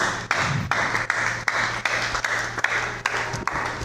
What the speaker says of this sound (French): Est-ce qu'on peut bien acclamer pour la parole de Dieu?